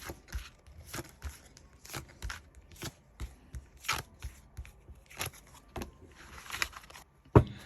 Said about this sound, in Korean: 자, 제가 이렇게 카드를 뽑았습니다.